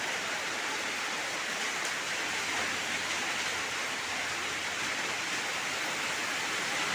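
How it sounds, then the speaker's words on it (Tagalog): Heavy rain pours in a dense, unbroken hiss, steady and moderately loud throughout, with no voices over it. "Ang lakas ng ulan."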